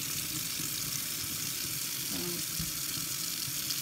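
Steady running tap water rushes continuously while a model horse is washed at a sink, an even hiss with a brief faint clink partway through.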